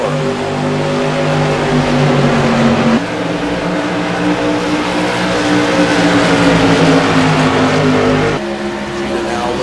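Modified race cars roar around New Hampshire Speedway in a loud, steady engine drone that shifts pitch as they pass, with a brief dip near three seconds and again near the end, under faint commentary.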